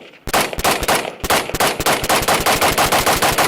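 A Cox Arms EMR-1 rifle fed from a Brownells magazine fires a fast string of sharp, loud shots close by, about a dozen in quick succession after a brief pause near the start.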